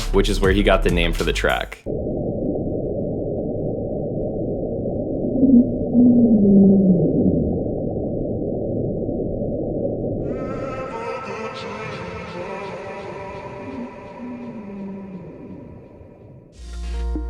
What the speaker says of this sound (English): the Julia sound was identified as a 1999 recording from the National Oceanic and Atmospheric Administration, and it's believed to be an iceberg that had run aground off of Antarctica